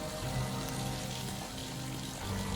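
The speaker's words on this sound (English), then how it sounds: "The relentless, monotonous sound of water. This fountain moves all year round." A year-round outdoor fountain splashes in winter, a steady, dense wash of falling water, moderately faint and unbroken, with no voices.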